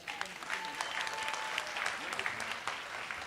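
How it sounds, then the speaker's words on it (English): An audience at a Sri Krishna Janmashtami celebration at Bhaktivedanta Manor gives a round of applause, dense sustained clapping with scattered louder claps, and a faint voice heard beneath it. "Can we give another round of applause?"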